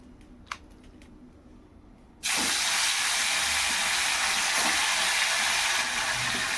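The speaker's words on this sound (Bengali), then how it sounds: "এক এক করে মাছগুলো ভেজে নেব" Fish pieces dropped into hot oil in a kadai set off a sudden loud, sustained sizzling hiss after a quiet start with a few small clinks, and it stays steady and close.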